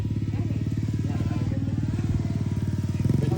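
Motorcycle engine idling nearby, a steady loud rhythmic thumping putter that swells slightly near the end, with a voice briefly audible.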